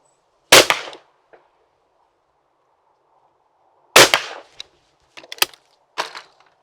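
Shotgun blasts at clay targets, two sharp loud reports spaced a few seconds apart, each followed by a short echo, then a few lighter clacks and clicks near the end.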